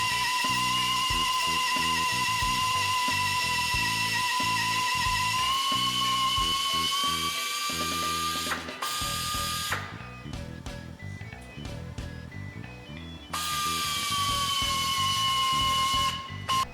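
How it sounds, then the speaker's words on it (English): A preheated extruder gun mixing repair rubber pieces for strip rubber repair gives a loud, steady high whine with hissing, continuous throughout and dipping briefly partway before resuming. "Insert the combined rubber pieces into a preheated extruder gun and run through to mix."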